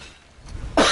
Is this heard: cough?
yes